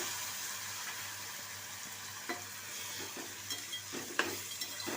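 Tomatoes with onion and turmeric simmering in a pan on low heat, giving a soft continuous sizzle with occasional spoon clicks and stirring scrapes close by.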